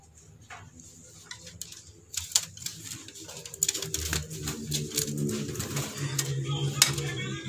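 Racing pigeons coo softly amid scattered clicks and taps, with low murmuring sounds nearby and a busy, close texture throughout.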